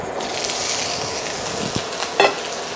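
Pork stir-frying in oil in a hot pan, a steady bright sizzle with a brief utensil knock and a short scrape of stirring near the end.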